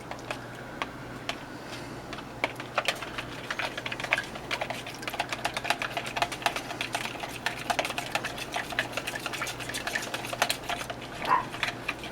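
A whisk or fork beats milk into an apple strudel batter mixture in a bowl, making a fast, continuous stream of light ticking and tapping, close and steady, with no talking.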